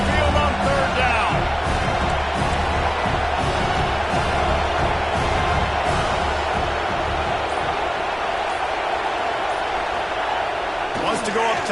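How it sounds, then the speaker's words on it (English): Dense stadium crowd roar at an Alabama home game in the College Football 2026 video game, a steady loud wash of noise swelling on third down, with commentary talking over it throughout. "The Tide crowd rolling noise down onto Saban Field on 3rd down."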